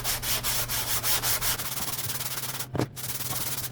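Sanding a VW engine part flat by hand, checking deck height to thousandths of an inch: steady rhythmic back-and-forth abrasive strokes, close and fairly loud, with a brief louder scrape near the end over a low hum.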